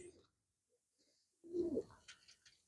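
A single pigeon lets out one short, fairly close coo after a near-silent pause, followed by faint rustling; low-level and mostly alone.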